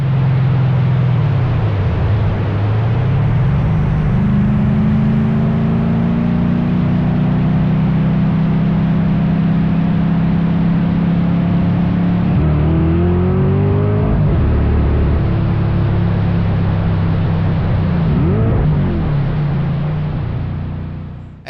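Cars in a drag race between the Carbon Fox and another car, one with a broken-up, misfiring engine, give a loud sustained engine roar that climbs through gear changes, dips and swells again, then fades at the end.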